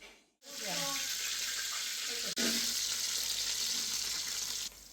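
Onion fries in a pan for a fish curry, a steady broadband sizzle that starts after a brief pause and runs loud and continuous, with a short clatter partway through.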